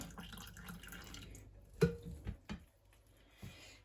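Warm syrup drips from a soaked almond croissant lifted out to drain, several distinct wet drops and small splats landing close by over a soft background hiss.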